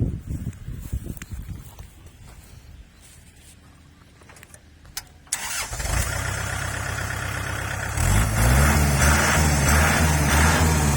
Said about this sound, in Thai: เดี๋ยวลองฟังเสียงเครื่องยนต์ดูนะครับ